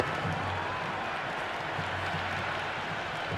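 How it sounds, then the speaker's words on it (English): A stadium crowd roars steadily in the cricket game Cricket 26, a dense continuous wash of cheering and clapping filling the background at a moderate level. "There's a buzz, a real buzz coming from the stands."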